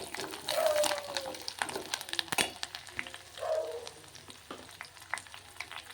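Mustard seeds and cumin sizzle and crackle in hot oil while a curry-leaf tempering is made for a village-style dal with fenugreek leaves, a steady frying hiss with scattered pops and a few louder bursts, close up, with no talk.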